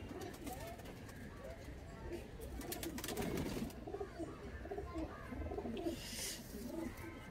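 Domestic pigeons in a loft coo in soft, repeated rolling phrases close by, with voices murmuring in the background.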